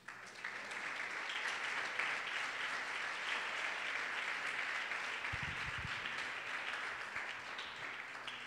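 A church congregation claps during a Sunday service, a sustained wash of applause from a large crowd lasting several seconds, slightly distant with room echo and a soft low rumble near the end.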